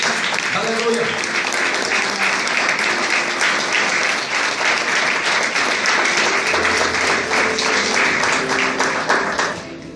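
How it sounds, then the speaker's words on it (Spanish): A church congregation claps together in sustained, dense applause that fills the room for about ten seconds before tapering off at the end. "Dele palmas al Señor de gloria."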